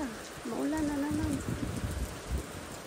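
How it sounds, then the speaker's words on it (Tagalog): Rain falls in the Philippines as a steady soft hiss and patter, with a voice sounding briefly near the start. "It's very rainy."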